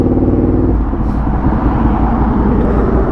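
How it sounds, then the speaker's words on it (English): Slow stop-and-go road traffic around a 2017 Suzuki SV650 motorcycle in first or second gear, a steady, loud low engine drone with a rhythmic throb and rumbling vehicles close by. "Here's the traffic I was expecting."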